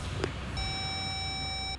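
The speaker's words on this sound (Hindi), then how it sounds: "सर, फोन काट दिया उसने।" A phone call is cut off, and a steady electronic disconnect tone sounds clearly after a brief click, holding for over a second before stopping.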